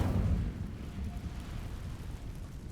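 Incendio fire spell cast in the video game Hogwarts Legacy, a loud low whooshing burst that flares at the start and then rumbles on steadily with crackling texture, no talking.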